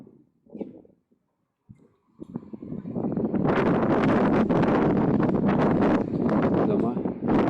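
Strong wind gusts buffet the microphone in a loud, continuous roar in the historic centre of Grodno, Belarus, with a few brief voices heard before the wind takes over.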